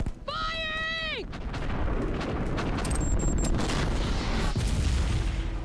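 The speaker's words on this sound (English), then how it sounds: "Firing!" Gunfire on the set of the 2011 sci-fi film Battle Los Angeles follows a brief rising electronic whine. Loud booming reports run close together and fill the rest of the stretch.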